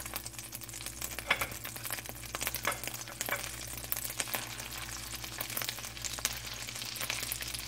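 Stuffing pancakes fry in a pan over medium-high heat, giving a steady soft sizzle with scattered sharp pops and ticks, close by, over a low constant hum and with no one speaking.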